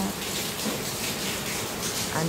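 Rainwater pours from two drain pipes near a house during rain, a steady close splashing gush running continuously while a person talks over it.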